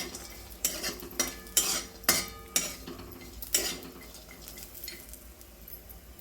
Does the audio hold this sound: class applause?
no